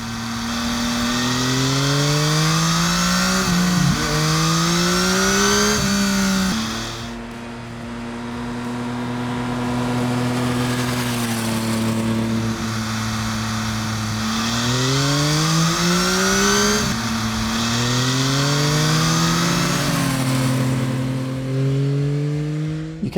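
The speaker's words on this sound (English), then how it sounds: "the CP3 engine is super smooth sounding, and the air intake is really impressive to hear" A smooth, steady 2022 Yamaha XSR900 three-cylinder CP3 engine roars continuously, with rising and falling revs and a strong intake growl, loud and close throughout.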